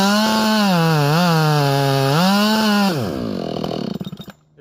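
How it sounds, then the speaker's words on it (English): Husqvarna 572 XP chainsaw bucking a three-foot Grand Fir log, loud and close, the engine bogging and revving under load for several seconds, then dropping to a sputtering idle. "we're going to do some cuts on this 3-foot Grand Fir against my ported 400"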